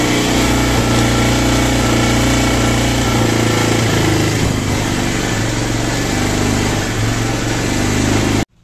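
A Hero Honda Karizma R motorcycle engine, undergoing carburetor tuning for a starting problem and low mileage, runs held at about 3000 rpm. It gives a loud, steady, close buzzing drone with even firing pulses and cuts off abruptly at the end.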